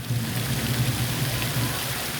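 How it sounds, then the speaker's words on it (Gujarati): Heavy rain pouring down on a city in Gujarat, a dense continuous hiss of water hitting surfaces, steady and loud throughout with no voices. "આગાહી મુજબ શહેરમાં ધોધમાર વરસાદ ચાલુ છે"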